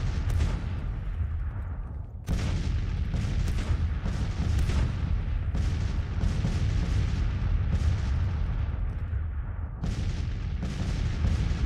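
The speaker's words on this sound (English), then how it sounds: "there's a massive artillery crossfire" Massed artillery in a Civil War battle in the strategy game Grand Tactician: The Civil War, a constant rumble of overlapping cannon booms with heavier volleys landing every second or so, loud and unbroken throughout.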